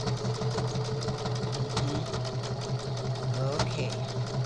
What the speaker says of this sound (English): Good sewing machine.